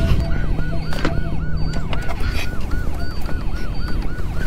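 An ambulance siren wails in a repeating rising-and-falling cycle of about half a second, loud and close over a steady traffic and engine rumble, with no voices.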